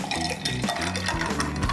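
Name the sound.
sparkling water poured into a glass with ice and lime juice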